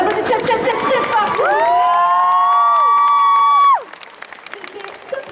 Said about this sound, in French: Comme le vrai, on l'applaudit très très très très fort.